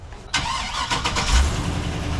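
An old pickup truck engine cranks and catches after a brief silence, then settles into a rough, loud idle that runs steadily close by with no talk over it.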